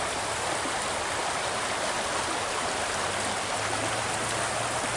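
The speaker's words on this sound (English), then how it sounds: "Where the river comes in." A river flowing into a clearing on a ranch, a steady broadband rush of moving water that stays even and fairly loud from start to finish with no voices.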